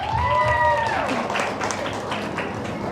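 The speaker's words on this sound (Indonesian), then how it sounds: "Boleh tepuk tangan yang meriah?" An audience claps at a Ramadan talk-show event on zakat, a dense burst of applause rising after a brief gliding electronic tone and holding steady to the end.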